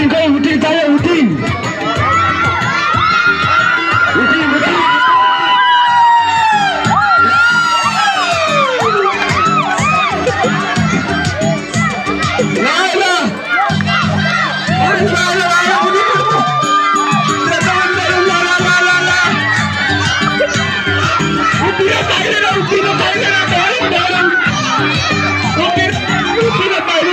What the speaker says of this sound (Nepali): हुटिङ चाहियो हुटिङ